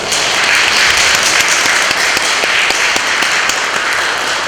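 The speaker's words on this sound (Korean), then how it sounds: "그래서 박수로 저희 한번 저희 새로운 로고를 맞이하면 좋을 것 같습니다." A church congregation at a Sunday service applauds a new logo with loud, continuous clapping that fills the room evenly, with a few sharper individual claps standing out.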